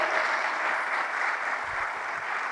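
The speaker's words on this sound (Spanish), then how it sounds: "Dele fuerte las palmas al Señor" A church congregation claps in a dense, steady wash of applause, sustained and fairly loud throughout.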